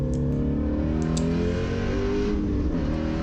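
A Ford Mustang GT350R engine revs on a race track, a loud, close, continuous rumble with strong harmonic tones that climb steadily, heard alone.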